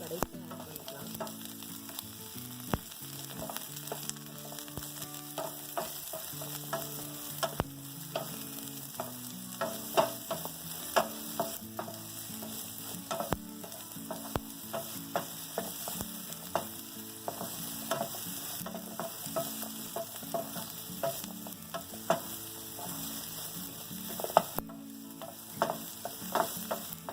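Chicken meatball masala sizzling as it is lightly sautéed in a pan, an even frying hiss with scattered small pops and occasional spatula scrapes running continuously and fairly quietly for a long stretch, no one speaking.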